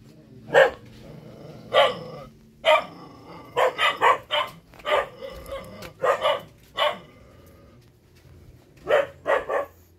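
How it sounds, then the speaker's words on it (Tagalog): A dog barks loudly and nearby in short bursts, single barks and quick doubles with brief pauses between. "yung aso maingay"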